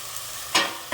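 Onions sautéing in oil with ginger garlic paste for a paneer biryani, a steady close sizzle with two brief louder bursts as the pan is stirred.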